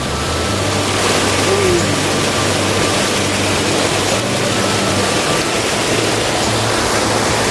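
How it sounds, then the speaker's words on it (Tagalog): A waterfall at Baler, Aurora pours in a dense, unbroken roar of rushing water, loud and close, with no clear talk over it. "Pero at least may falls."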